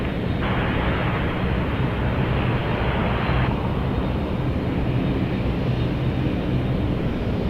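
An airliner takes off at Toronto Pearson airport, a loud continuous roar that holds steady throughout, with a hissing layer that drops away partway through.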